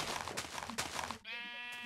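Minecraft sheep from the video game bleating twice in quick succession, loud and close, followed by a steadier tonal sustained bleat, with no talking.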